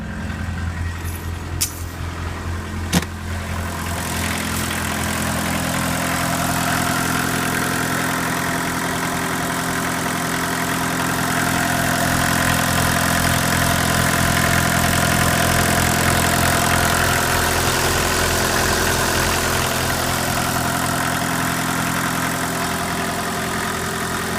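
A Mk1 VW Rabbit diesel engine idles steadily up close with a low, even chugging rumble that continues throughout, no voices present.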